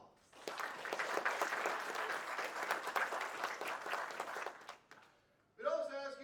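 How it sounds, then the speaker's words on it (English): A community theater audience applauds before a show, a burst of dense clapping from a crowd that swells and holds for several seconds, then dies away as a voice begins speaking. "Let's all give them a round of applause."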